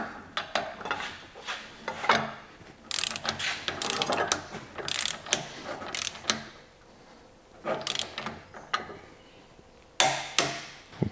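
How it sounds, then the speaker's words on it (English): A small ratchet tool tightens the wheel hub bolts on a Nissan Patrol during a swivel hub and brake job, making quick bursts of metallic clicking with short pauses between them. The sound is close and fairly loud, with no talking. "Might use my little pinion tool to torque these up."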